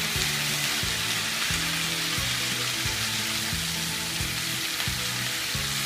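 Vegetables frying steadily in a pan over medium heat, seasoned with turmeric and cumin powder, a dense continuous sizzle with a low rhythmic hum underneath and no talking.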